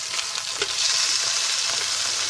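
Scallops sear in a hot pan with a loud, dense, continuous sizzle close at hand, plus a few faint clicks early on.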